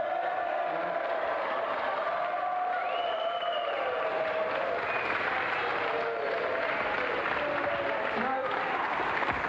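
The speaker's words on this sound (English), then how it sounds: "Another round of applause for Pat Sharp and Mick Brown." A studio audience on a video game TV show applauds two guests, a steady wash of clapping that holds for about nine seconds, with voices and cheering mixed in.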